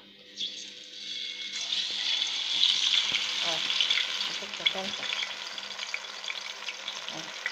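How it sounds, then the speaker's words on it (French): Fish dropped into hot oil for frying, a sudden loud hiss that settles into a steady bubbling sizzle with occasional crackles and utensil clicks, close up. "mettre du poisson pour frire quoi"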